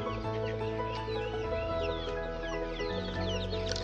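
Hens cluck and chatter in a small poultry farm shed, several birds calling in quick overlapping bursts over a low background hum, with no talk.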